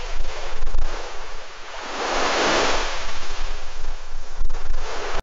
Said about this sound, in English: let's see if we can hear some ocean waves.